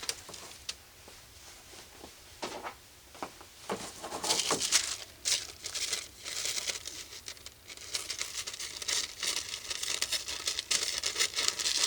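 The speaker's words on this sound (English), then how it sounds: "now I'm going to go ahead and cut or trim or tear around this edge" Stamped tissue paper being cut and torn by hand around its edge: soft crinkles and rustling tears, sparse snips at first, then denser, louder ripping and crumpling close by, with no voices.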